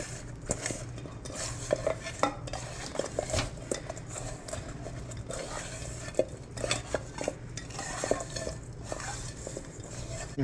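Chicken wings for crispy baked Cajun wings tossed in coating in a bowl, a busy run of rustling, stirring and light clattering knocks that continues steadily and fairly close throughout.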